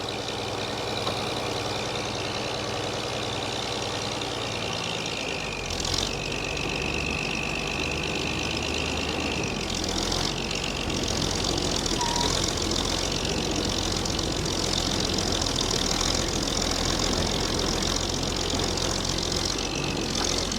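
A rare Swed Trac tractor engine catches at once and settles into a steady, rough idle, running loud and continuous close by.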